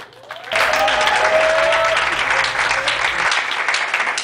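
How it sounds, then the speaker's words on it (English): A studio audience breaks into loud, sustained applause for a parent guest on a youth-language talk show, dense clapping kicking in abruptly and holding steady to the end. "Please give Mr. Pinder a round of applause."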